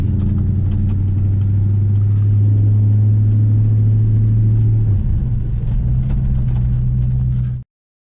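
Car fitted with 3-inch Magnaflow mufflers driving away from a muffler shop, a loud steady deep exhaust drone with a shift in pitch midway before cutting off abruptly.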